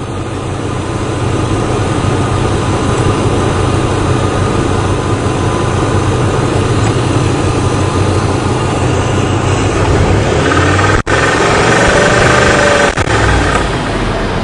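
A 2002 Ford engine with a rough idle runs loud and close, its uneven drone steady for several seconds before the throttle is blipped, bringing brief revs and a hesitant stumble near the end.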